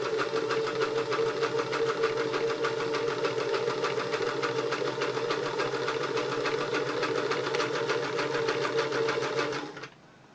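A Singer 328K sewing machine runs steadily for about ten seconds, a close, even mechanical whir with a fast regular needle rhythm, then stops abruptly near the end.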